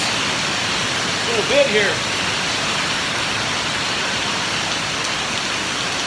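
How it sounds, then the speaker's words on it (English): Intense hail falling outdoors makes a dense, steady roar of pellets across the whole stretch, loud and close. A brief voice speaks over it. "We're getting some pretty intense hail."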